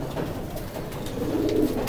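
A highflyer pigeon coos softly in a breeder's loft in Karachi: a few low, rounded coos close by over a steady murmur of background noise.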